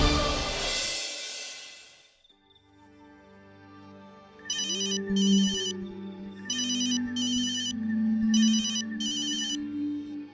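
A phone ringtone plays during a call: a dial tone gives way to a bright electronic melody repeating in short paired bursts over a soft sustained backing, loud and close with no talk.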